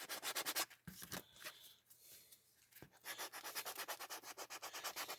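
Hand rubbing along the edges of a key fob to smooth them, a steady, close, rhythmic scraping in rapid strokes, pausing briefly mid-way before resuming.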